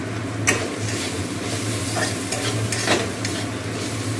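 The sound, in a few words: frying chopped pointed gourd (potol) in a pan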